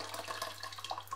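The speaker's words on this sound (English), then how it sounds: "I've already boiled my kettle and all I'm going to do is just use boiling water." Boiling water poured from a kettle into a pan for spicy chicken noodles, a steady close splashing stream running the whole time over a low constant hum, with no voices.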